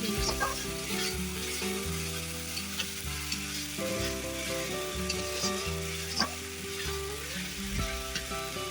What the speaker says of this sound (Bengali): একটু জল দিয়ে দেবো, কারণ মশলাটা আরেকটু বেশি করে কষিয়ে নেবো। তো আমি একটু জল দিয়ে দিলাম।